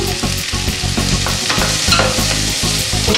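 Garlic tossed into a hot pan while a cauliflower soup with fried scampi is cooked, sizzling loudly and close with rhythmic stirring scrapes and clatters throughout.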